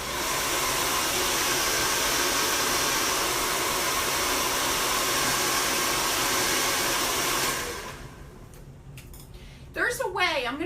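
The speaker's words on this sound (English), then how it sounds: "then we're going to hit it with a dryer" A hair dryer roars steadily and loudly for several seconds, then switches off, leaving brief rustling and a voice speaking.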